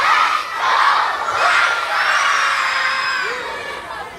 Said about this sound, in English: White Sox fans cheered.